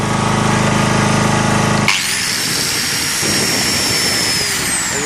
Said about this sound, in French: On va y mettre une meuleuse toute simple.